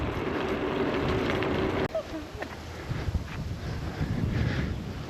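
Wind buffeting the microphone outdoors near a church in Obernai, France, a continuous low gusty rumble that drops and rises unevenly, with faint street sounds beneath.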